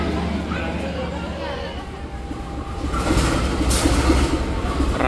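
The Motis Utara train from Cilegon, with a locomotive, baggage car, economy coaches and a generator-restaurant car, rumbles along the rails with rhythmic clatter that grows louder, while people talk over it.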